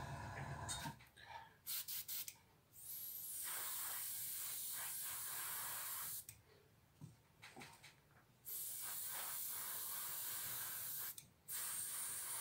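An airbrush lays a light, dusty coat of paint onto a model Mitsubishi Zero fuselage, with close steady hissing bursts of several seconds each, separated by short pauses.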